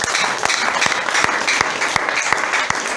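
Congregation at a Sunday church service clapping together, a steady close wash of applause with sharp periodic hand claps punctuating it throughout, no voices over it.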